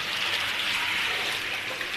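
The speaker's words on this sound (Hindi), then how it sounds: "ये देखिए, मैंने पानी इसमें डाल दिया है" Water poured into a container while making sandalwood sharbat, a steady hissing trickle that holds at an even level for a couple of seconds, with no voices.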